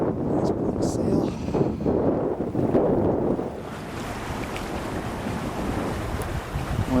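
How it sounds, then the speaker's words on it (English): Steady wind rush and water wash aboard a sailboat under a big sail making about 7 knots near Obstruction Pass, with a north wind; broad continuous noise, louder in the first few seconds, with no talk. "Wind's coming out of the north."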